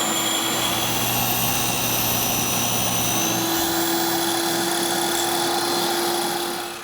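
A power saw cutting PVC under-door exterior kickboard trim gives a loud, steady motor whine with a buzzing drone that runs unbroken for several seconds, then starts to wind down at the end.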